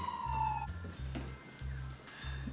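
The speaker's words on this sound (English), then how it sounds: "Brooklyn, sirens." A siren wails in Brooklyn, fairly distant and steady, with a low rumbling drone beneath it and no talking.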